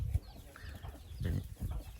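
Chickens and ducks housed together cluck and murmur softly at close range, a few low bursts with no voices.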